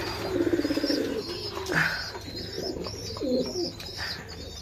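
Pigeons in a breeding loft coo in repeated throaty, rolling phrases close by, with a few chirps mixed in and no talking.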